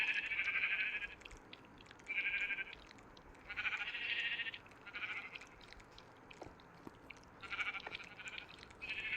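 Sheep in the Minecraft video game bleat in repeated short wavering calls, about five or six bursts spaced a second or two apart, moderately loud over a faint background hum.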